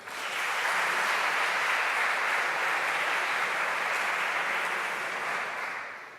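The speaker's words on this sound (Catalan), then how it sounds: "Vinga, un aplaudiment." A crowd of listeners applauds an award winner at a technology prize ceremony, a dense, steady wash of clapping that swells quickly, holds for several seconds and tapers slightly at the end, with no voices over it.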